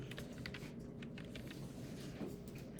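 Soft, faint keyboard typing as numbers are entered on a computer, a light patter of key taps over a steady low room hum.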